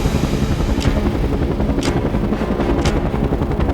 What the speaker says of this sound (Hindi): ठीक 12 साढ़े 12 बजे हेलीकॉप्टर बिन लादेन कंपाउंड के पास पहुंचे।